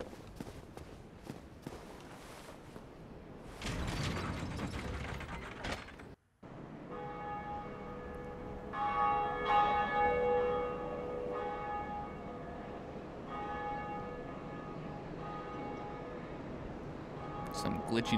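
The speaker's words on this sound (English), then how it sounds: "Every time somebody beats the gargoyles, they ring the bell, and anybody in that same server will hear the bell ring" A church bell rings in the video game Dark Souls after the Bell Gargoyles are beaten, its tolls sounding as sustained ringing tones mixed with game noises, footsteps and someone talking over it.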